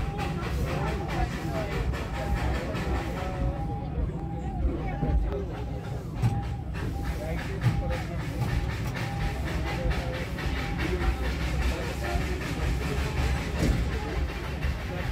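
Darjeeling steam toy train running on its mountain line, a steady rumbling roll with rhythmic clatter of the carriages, heard from on board amid background voices.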